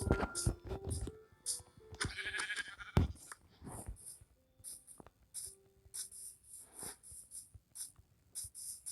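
Sheep in the video game Minecraft bleat repeatedly, short nasal calls scattered across a busy stretch of game sounds, clicks and faint breathing.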